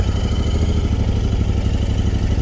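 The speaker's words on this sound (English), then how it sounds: "Yeah, switch it on. exhaust note of this." A motorcycle idles nearby with a steady, throbbing exhaust rumble and faint mechanical clatter, continuous and fairly loud, no talking.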